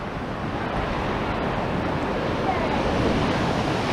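Sea waves rolling in steadily with wind buffeting the microphone along a seaside promenade near a pier, a continuous broad wash of surf with no clear breaks.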